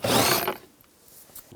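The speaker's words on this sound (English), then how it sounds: "Using a 10mm socket, there's a bolt in here. Take that out." A 10mm socket ratchet loosening a tail light bolt on a 2004-2009 Toyota Prius: a short, close burst of rapid ratchet clicking that stops abruptly, followed by a couple of faint small taps.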